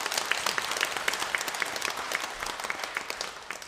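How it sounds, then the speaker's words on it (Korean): Church congregation at a Lunar New Year Mass claps in welcome for visiting parishioners, a sustained, even wash of many hands filling the hall throughout, moderately loud and without speech. "환영의 박수."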